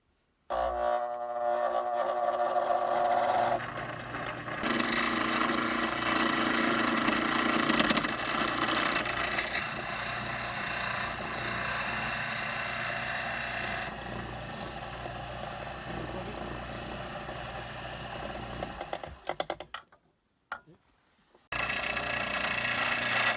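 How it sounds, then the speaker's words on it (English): Restored antique wood lathe with a belt drive running steadily for about twenty seconds, a loud continuous mechanical hum with rattling vibration that cuts out briefly near the end and then resumes. "Well, we got the lathe put together and running"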